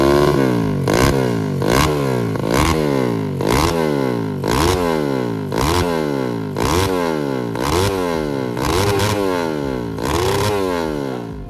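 A Honda Grand 180cc motorcycle engine revs repeatedly, rising and falling in a steady rhythm of throttle blips, loud and close with no talking.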